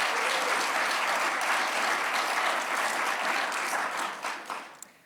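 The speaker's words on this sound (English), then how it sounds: "Let's give these ladies another round of applause." An audience gives sustained, loud applause for award nominees at a ceremony, a thick wash of clapping that fades out in the last second with a few stray claps.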